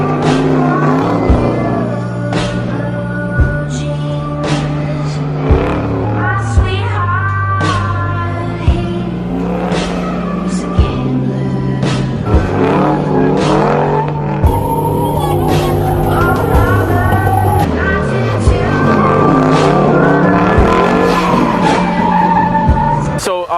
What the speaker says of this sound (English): we'll just drop a little clip in of Bowman in his own C10 just ripping it up.